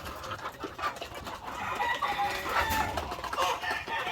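White leghorn cross heritage breed chickens cluck and chatter steadily while eating corn feed, a busy overlapping flock sound, close and fairly loud.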